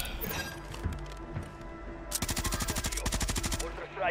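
Gunfire in the shooter game Warzone 3, with scattered shots early on and then a loud, rapid burst of repeated shots that fills the second half.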